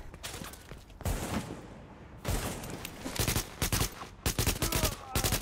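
Gunfire in Tom Clancy's The Division, with a sniper among the shooters: loud repeated bursts of sharp shots broken by short pauses, with rapid clusters of cracks toward the end.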